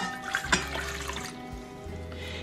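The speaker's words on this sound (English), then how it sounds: "So I'm going to pour this in my mixer bowl." Warm water, meant for activating yeast, is poured into a stand mixer bowl for soft pretzel dough, giving a brief splashing pour with small drips, fairly quiet and close.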